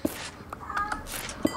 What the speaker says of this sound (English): And there goes the cat meowing.